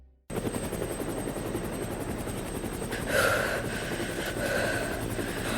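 A police helicopter hovers in the dark, its rotors giving a continuous, thick throbbing drone that stays loud and near throughout, swelling slightly midway, with no voices.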